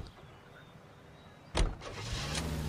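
In L.A. Noire, a car door thumps shut after quiet ambience, followed by a low idling engine hum from the 1940s-era vehicle's interior, close and moderate in level.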